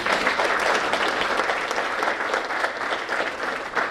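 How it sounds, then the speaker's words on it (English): An audience at a general membership meeting claps steadily in a dense, even round of applause that holds for several seconds, close and lively, with no speech over it. "Let's give them a quick round of applause."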